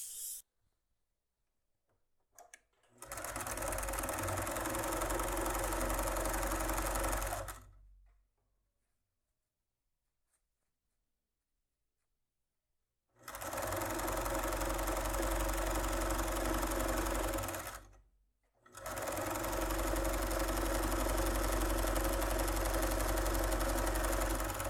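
A domestic sewing machine runs in three bursts of steady mechanical whirring, each several seconds long with quiet pauses between, as a seam is stitched to topstitch a cute makeup pouch with lining.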